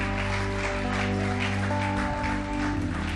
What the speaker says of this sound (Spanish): Aplaude si puede, aplaude si puede.